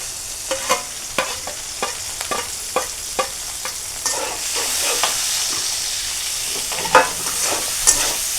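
Sliced onions and green chillies fry in oil for a bighead fish curry, a steady sizzle broken by repeated sharp spatula scrapes and clicks against the pan, close and fairly loud with no talking.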